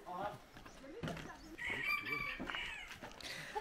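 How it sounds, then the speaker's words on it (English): Chickens at a riverfront camp in the jungle near Chiang Mai, with clucking and crowing mixed under nearby chatter and background noise, moderately close and fairly faint. "There's a lot of chickens around here."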